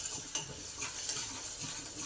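Spice masala of cumin powder and asafoetida sizzles in hot oil with mustard seeds in a pan, a steady close crackle with a few light stirring scrapes and clinks.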